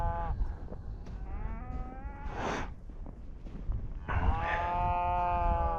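Cattle on a working ranch during a roundup call out in a few drawn-out moos and low bellows, fairly close and overlapping, with general outdoor noise underneath and no talking.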